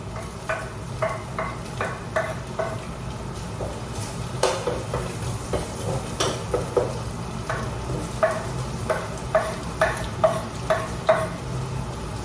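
Garlic and onion sauté in a pan for chopsuey, a soft sizzle under a steady run of rhythmic spatula taps and scrapes against the metal, close by and without speech.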